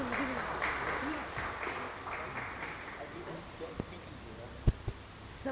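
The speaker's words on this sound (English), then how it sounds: "let us all please give a big round of applause and welcome on stage" Audience applause welcomes a guest onto the stage at a talk session, a steady moderate clapping with some voices mixed in and a few sharp knocks near the end.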